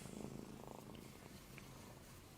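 A one-week-old kitten's mother cat, Flour, purring steadily and softly up close, a low continuous rumble with faint rustling and no talking.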